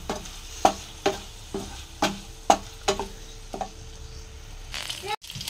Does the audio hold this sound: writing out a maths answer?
no